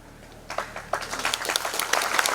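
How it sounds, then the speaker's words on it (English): An audience breaks into applause at a public event in Shillong, starting after a brief lull and building into steady, dense clapping that carries on to the end. "Yes, we should give him a round of applause."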